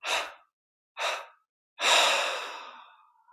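Three deep breaths during guided meditation: two short airy exhales, then a longer, fuller exhalation that tapers slowly away, close and unaccompanied by talk.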